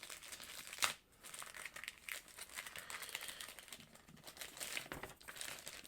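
Taped instruction sheets being pulled free from the bottom of a Hot Toys Aquaman figure box, giving close, continuous paper and plastic crinkling with a sharp rip near the start, at low volume and with no talk.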